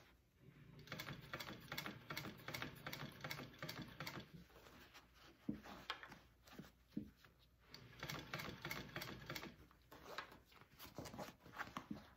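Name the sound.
sewing machine stitching a sling bag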